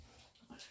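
A dog lets out a brief, faint whimper indoors, a soft breathy whine rising in pitch over quiet room noise.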